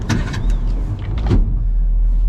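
A Yamaha F50 outboard engine on a 2004 Jetcraft boat, with a few sharp mechanical clicks and a whine as it starts, followed by a steady, close running drone.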